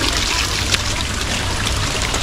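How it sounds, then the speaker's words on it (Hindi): Waterfall water at Dawki, Meghalaya, rushing and trickling steadily in a brief, close, continuous wash with no voices. "ये झरने का पानी है।"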